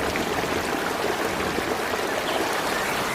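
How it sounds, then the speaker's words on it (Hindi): Floodwater rushing in a cartoon rainstorm that washes away a bird's nest, heard as a loud, continuous broadband gush of flowing water without any talk. "जैसे ही दोनों बाहर आ गई, घोंसला बाढ़ की पानी में बह गया"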